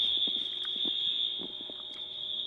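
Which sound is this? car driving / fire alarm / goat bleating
fire alarm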